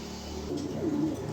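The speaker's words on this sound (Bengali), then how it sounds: "এটা হচ্ছে একটা নর কবুতর" A male pigeon coos close by, one soft, low, rolling call that rises and falls over a steady background hum.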